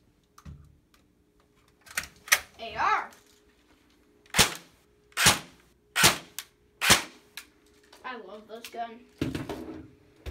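Airsoft or BB gun shots fired into play dough, sharp close snapping cracks repeated about eight times at irregular intervals, with brief talk between shots.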